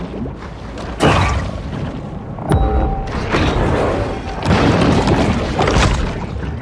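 Deep booming bomb blasts in the Maneater video game, with the bombs dropped into the water from a boat, three heavy bursts about a second or two apart, each rumbling and fading under a steady low background.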